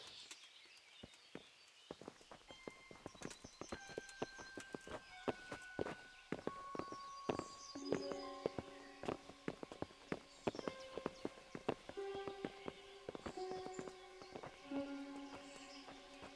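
Horses' hooves clip-clop at a walking pace in Kingdom Come: Deliverance, steady and fairly close, over bright tonal music and scattered chimes.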